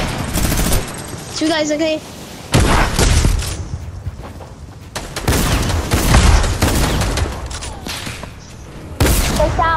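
Video game gunfire from shooting at an alien, coming in loud bursts of rapid shots with booms between, under excited talking from players.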